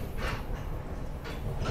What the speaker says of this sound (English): I'm on this train right now.